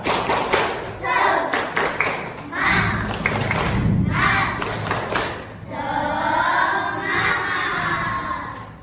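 A class of children performs the 'tepuk semangat' chant, with bursts of rhythmic group clapping and thumps between loud chanted shouts, all close and energetic.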